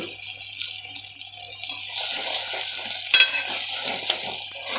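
Frying and stirring in a pan for a small fish curry, quiet at first, then a fuller hiss of sizzling oil joins in with light rattles and utensil clinks near the middle.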